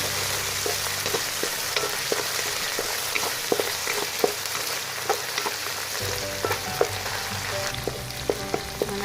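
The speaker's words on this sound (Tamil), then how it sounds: "முதல்ல நல்லா போட்டு கொஞ்சம் பொரிய விடுங்க." Ingredients sputter and crackle in hot oil while frying chili butter prawns, a dense close sizzle dotted with sharp pops and spatula taps, growing slightly busier toward the end.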